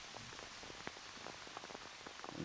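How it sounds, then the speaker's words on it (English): Rain falling steadily on an open golf course during a junior tournament's final round, a soft, even hiss with scattered faint drop ticks throughout, distant and low in level. "hard to see with the rain coming down"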